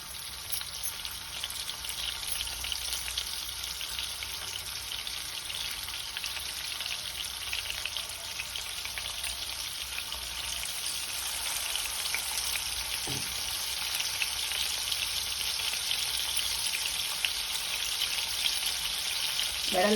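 Pieces of spiny gourd frying in hot oil in a wide pan, a steady dense sizzle running unbroken throughout, close and fairly loud, with a brief clink near the end.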